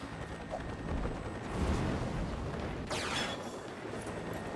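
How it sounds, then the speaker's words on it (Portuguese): An explosion in the LEGO The Incredibles video game: a faint low blast swelling then fading, followed by a whooshing burst, all quiet and distant under continuous game noise, with no talking. "Rápido! Vai explodir!"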